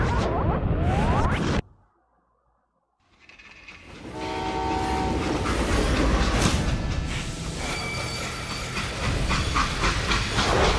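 A freight train rolls along in Call of Juarez: Gunslinger, loud rumbling and hissing steam with a horn-like tone, broken by a brief near-silent gap before the clatter returns and holds steady.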